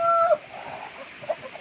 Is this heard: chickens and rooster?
yes